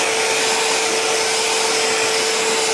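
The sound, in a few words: high-powered leaf blower running on turbo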